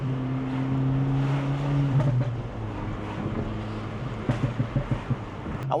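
A tuned Acura Integra Type-S engine drones from inside the car while driving, with a low steady hum under road and wind noise and a few short throttle surges near the end.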